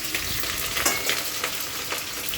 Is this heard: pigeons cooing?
no